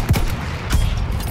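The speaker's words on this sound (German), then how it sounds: "das war ein richtig guter Schuss" Gunfire in the shooter game Battlefield 1, with a few sharp, close shots cracking in quick succession over a steady rumble of battle ambience.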